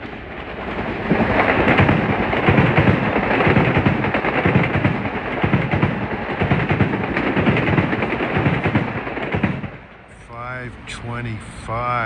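Metro-North train 653 from Grand Central to Mount Kisco passes close on the Harlem Line near Scarsdale on an evening with holiday lights, a loud rumbling, clattering roar that fades out near the end, leaving quieter sounds.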